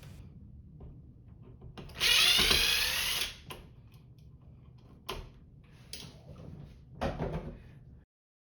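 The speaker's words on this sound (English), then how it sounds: "Now a driver makes quick work of this." Power driver spinning out light switch screws, a short loud whirring burst followed by a few brief fainter buzzes and clicks in a quiet room.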